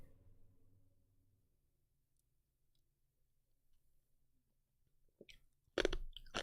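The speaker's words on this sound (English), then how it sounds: "You ever crunch on ice?" Someone crunches on ice, first a quiet lull with faint clicks, then a burst of loud, close, sharp crunches near the end.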